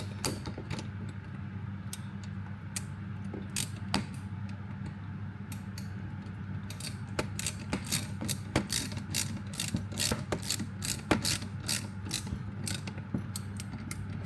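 An 18mm socket and spanner tighten bolts on a Victaulic-to-flange adaptor, with a steady run of close ratchet clicks that grows denser and louder toward the end, over a low constant hum.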